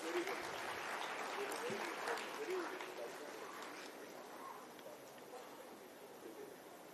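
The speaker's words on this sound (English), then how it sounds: "Please give a big round of applause." Conference audience at an international summit in Lucknow gives sustained applause, a dense, steady wash of clapping hands throughout with no break.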